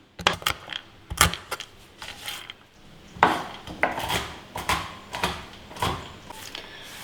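Knife chopping dry fruits into small, bite-sized pieces on a board, a run of sharp, close clicks and knocks with brief pauses between bursts.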